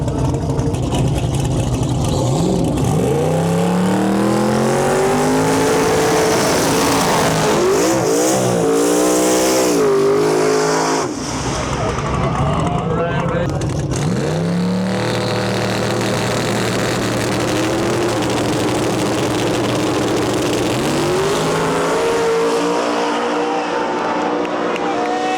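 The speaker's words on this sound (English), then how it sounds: "Nick Roberts from Devil's Glue, the event promoter, going up against the 4th generation Camaro in our lane." Small-tire drag race cars, including a 4th generation Camaro, launch and roar down the strip at the Backside Brawl event, loud engines revving and rising through gears with brief tire squeal, sustained and powerful throughout.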